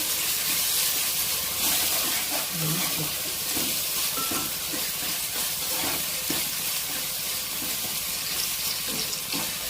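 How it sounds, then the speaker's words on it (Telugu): Ginger garlic paste frying with fried onions in a pan gives a steady, close sizzle with scattered stirring scrapes, and no voices. "అల్లం వెల్లుల్లి పేస్ట్ వేసేసాను. ఇది ఫ్రై అయిన తర్వాత"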